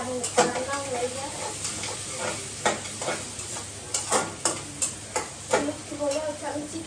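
Chow mein ingredients fry and sizzle in a pan, a steady hiss broken by repeated scraping stirs and clinks, close and fairly loud.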